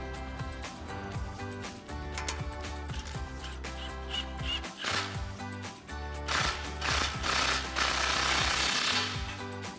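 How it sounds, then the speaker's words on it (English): A ratchet wrench with a 15mm socket tightening an exhaust clamp on a Ram 1500 exhaust system, rapid metallic clicking in quick bursts, close and loud, with no talk. "we can go ahead and tighten it down with our 15mm socket"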